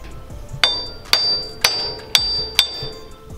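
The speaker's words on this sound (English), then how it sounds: "I'm gonna try just using a sledgehammer to see if we could break it loose." Five evenly spaced, sharp metallic clangs of a sledgehammer striking a Toyota Tacoma front wheel bearing assembly to break it loose, each ringing briefly before the next blow, close and loud in a quiet garage.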